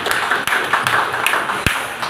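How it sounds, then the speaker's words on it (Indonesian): A small audience at a fundraising event claps briefly, with a few sharper individual claps standing out. "Mau tepuk tangan."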